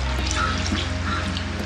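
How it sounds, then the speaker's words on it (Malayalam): A glass of hot water pours steadily into a chicken curry with coconut milk, a continuous close splashing gush over a low background hum. "ഇനി ഞാൻ ഒരു ഗ്ലാസ് ചൂടുവെള്ളം ഒഴിക്കുക."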